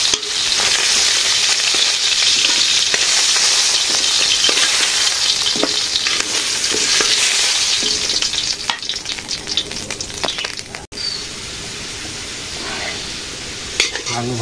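Potatoes frying in a pan with a loud, dense sizzle that runs steadily before thinning out, with scattered utensil clinks and stirring scrapes near the end.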